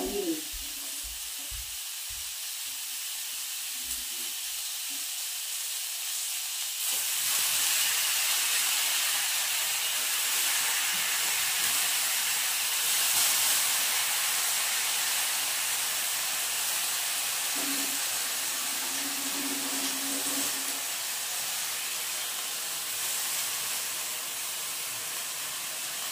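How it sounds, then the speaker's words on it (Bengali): Vegetables and dalia fry in a pan with a strong, steady sizzle. A few faint knocks open the sizzle, which then runs loud and continuous to the end. "এবার এটা একসাথে অল্প করে ভেজে নিয়ে"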